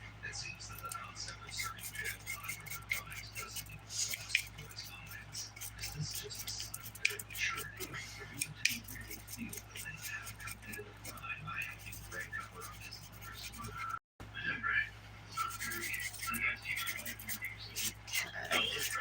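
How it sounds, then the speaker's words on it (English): A nail brush dipped in rubbing alcohol scrubbing over fingernails, rapid close bristle strokes in quick bursts, quiet and intimate, with a short pause partway through and faint murmured talk in the background. "I'm going to use my nail brush and rubbing alcohol again to clean off my nails."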